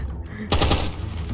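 Gunfire in a Minecraft war game: a short, loud burst of rapid shots in the middle of the clip, over a steady background of game noise.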